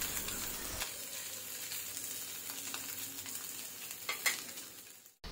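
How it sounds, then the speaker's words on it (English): Dried Bombay duck fish fries in oil over a medium flame, making a soft, continuous sizzle with a couple of faint utensil clicks near the end before it cuts off abruptly. "We'll fry this on medium flame for about 2 to 3 minutes till it gets a nice brown color."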